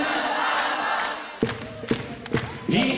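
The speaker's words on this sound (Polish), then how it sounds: "Ręce w górę, wszyscy klaszczą." Concert audience at a live show in Chicago, 2008, a dense roar of cheering crowd noise, followed by rhythmic group clapping in sharp, evenly spaced beats with shouting voices over it.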